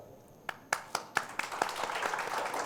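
An audience at a public assembly breaks into clapping, starting with a few sharp separate claps that quickly thicken into steady, moderately loud applause.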